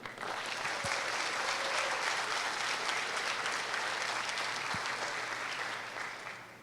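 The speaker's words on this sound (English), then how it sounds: "Give them a cheer." A crowd at a boys' civic leadership gathering claps and cheers for a second-place team, a dense, even roar of applause held steady for several seconds before tapering off.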